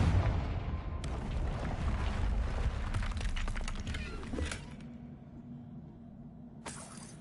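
A Confringo spell explosion in Hogwarts Legacy, a loud rumbling blast with crackling debris that fades into a low, quieter tail before a brief final burst.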